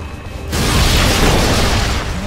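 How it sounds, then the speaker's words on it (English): S mines in Metal Gear Solid: Peace Walker launch and detonate in a sudden loud, close burst that rumbles on for about two seconds after a quieter start, with no speech. "Launching S mines."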